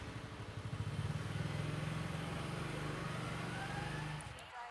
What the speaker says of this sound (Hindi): चलो मैं बाइक लगा के आता हूँ।